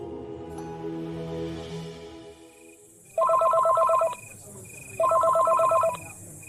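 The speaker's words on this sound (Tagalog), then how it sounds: "Saktong tumunog naman ang cellphone ko." A cellphone rings nearby in two loud bursts of rapid electronic trilling, separated by a short pause, following a brief stretch of quieter background sound.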